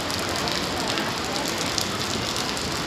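Heavy monsoon rain pours down in a steady, dense hiss without a break, loud and close, with a faint voice briefly under it.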